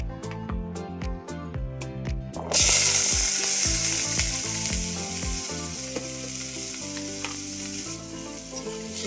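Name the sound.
daliya frying in oil with vegetables and ginger paste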